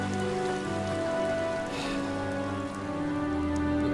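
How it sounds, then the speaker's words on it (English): Steady rain pours down in The Witcher video game, a dense continuous hiss of drops on surfaces that holds at an even level throughout, with no voices. "I like how the rain is remaining absolutely stationary as the camera moves."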